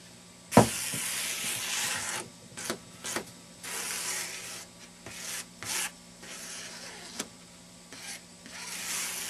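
Glue being rubbed by hand into foam wing sheeting, a series of close, loud hissing rubbing strokes in irregular bursts, separated by short pauses, with an occasional sharp knock, no voices.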